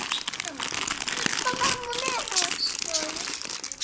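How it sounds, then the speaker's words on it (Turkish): Bag of Patos potato chips being torn open, loud close crinkling and crackling of the packet mixed with a child's chatter and other voices. "Bir de şu cips patos. Çok güzel bu. tamam patosu açalım."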